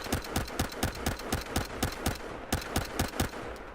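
A Glock handgun fires in rapid succession, roughly a dozen sharp, loud reports at a fairly steady quick rhythm, with no voices over them.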